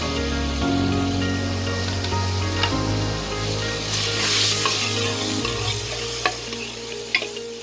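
Spinach and meat curry (palak gosht) with turmeric, salt, chilli and ground onion, cumin and tomato masala frying in a pan, giving a steady close sizzle with scraping stir strokes and a few sharp clinks of the spoon.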